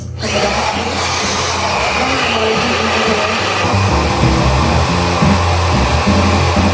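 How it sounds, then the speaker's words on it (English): A hair dryer blows steadily and loudly on curly hair, a continuous close whooshing roar with a whining motor hum that holds for several seconds without talk. "sit under the dryer for 20 minutes or so to get my roots all the way dry"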